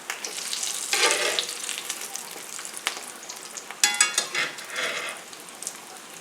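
Chimichangas sizzle steadily in very hot oil, with a burst of crackling and light utensil scrapes partway through as they are flipped, close and fairly loud with no talking.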